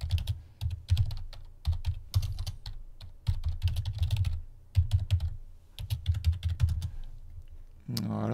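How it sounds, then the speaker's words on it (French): Rapid bursts of typing on a computer keyboard as an address is entered, close and clear, with short pauses between runs of keystrokes and a brief rustling noise at the very end. "on va taper l'adresse."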